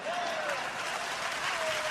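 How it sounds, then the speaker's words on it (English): A steady, fairly quiet applause sound effect plays throughout, an even wash of crowd clapping with no pauses. "We need the real applause."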